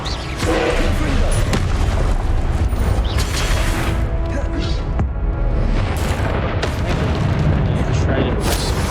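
A Confringo blasting spell explodes repeatedly during combat in Hogwarts Legacy, loud booming blasts layered with dense crackling effects and game sound, while a player speaks over the action.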